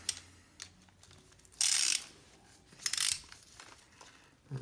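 Ratchet tightening a bolt on a 1991 Nissan 240SX S13 power steering pump during a rebuild: two short, bright bursts of clicking stand out from a quiet background, with a few faint taps between them.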